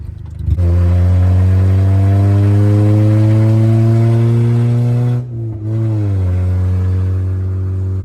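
A Honda Civic on newly fitted coilovers drives with a loud, steady engine drone close by, holding pitch for several seconds, briefly dipping as it shifts, then settling again.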